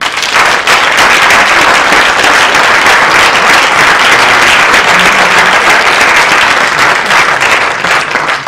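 A theatre audience applauds the director after an amateur stage play, with loud, dense and continuous clapping that holds steady throughout.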